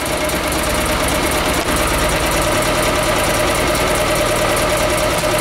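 A loud Panhard WL1 engine runs steadily with a busy mechanical clatter and ticking throughout, close up, with no voices.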